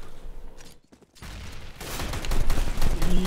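Gunfire in Counter-Strike: Global Offensive breaks out after a short lull, building into rapid overlapping bursts of shots that grow louder toward the end.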